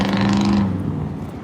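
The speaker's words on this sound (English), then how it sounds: "And then this is a loud red truck and a blue truck at the same time." A loud red truck and a blue truck driving past together, a brief close roar of engines that swells then fades away over about a second.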